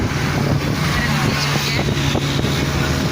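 Road traffic roars through open car windows while driving in Lahore, a loud, continuous rush of engines and wind buffeting that stays steady throughout.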